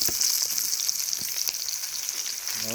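Crucian carp frying in a pan over a wood fire in a village setting, giving a steady, close, bright sizzle with small crackles and spits throughout and no talk.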